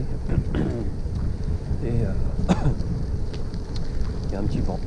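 Broadband wind buffeting on the microphone during a gravel bike ride along a river loop, a steady rush throughout with someone speaking over it.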